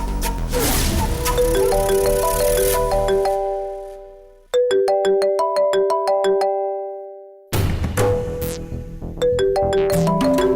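A phone ringtone plays a loud, clear melodic tune for an incoming call during a Tamil TV serial, cutting off twice and restarting, with no talk over it.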